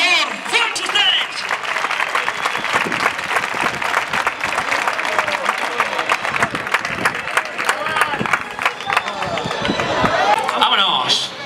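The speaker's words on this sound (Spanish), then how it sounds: "¡Fuerte, fuerte el aplauso!" A crowd at a recortes contest in Aldeadávila, a bullfighting-style event, breaks into loud, sustained applause that rolls on for the whole stretch, with shouted voices and cheering mixed into the clapping.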